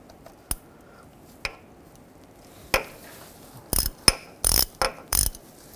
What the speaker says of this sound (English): Now we can take this bolt out right here, use a 13 millimeter socket.